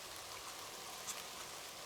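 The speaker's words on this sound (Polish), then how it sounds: "Muszę schować kamerę, bo to jeszcze pada." Rain falls steadily through a forest during mushroom picking, a soft, even hiss of drops on leaves heard alone, faint and continuous.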